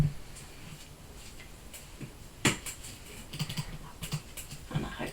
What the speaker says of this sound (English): And we're going to type Daisy's